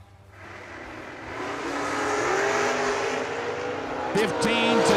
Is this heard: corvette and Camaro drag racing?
yes